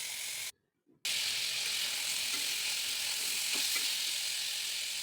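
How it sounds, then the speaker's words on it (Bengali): Jackfruit seeds frying in a pan hiss with a steady, dense sizzle, broken by one short silence near the start and a few faint clicks, with no voices. "ভালো করে ভেজে হলুদ দিব"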